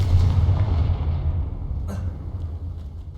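Confringo fire spell blasting in Hogwarts Legacy, a loud low boom opening the clip and rumbling away over about three seconds, with a brief crackle near the middle.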